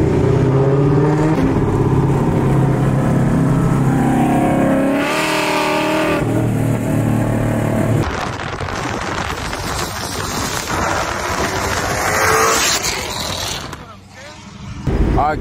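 A Procharged Ford Mustang revs and accelerates loudly on a road, with a roaring, rising engine note that breaks into a harsh, rapid blare and then drops off briefly before surging again.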